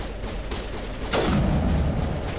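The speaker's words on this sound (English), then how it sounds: "I guess I could try the sniper rifle again." A single sniper rifle shot in the video game Mass Effect, a sharp crack followed by a booming low tail, heard once against steady background game ambience.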